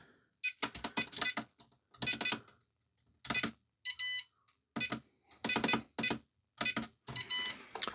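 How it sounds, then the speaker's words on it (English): A brushless ESC in a Hobby Plus Arktos 6x6 RC crawler plays its startup melody, the Back to the Future tune, as a series of short, sharp electronic beeps with brief gaps, close and clear and heard alone. "I had it so it did a startup sound. It does like the Back to the Future."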